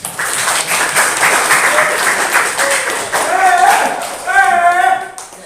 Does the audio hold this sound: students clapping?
yes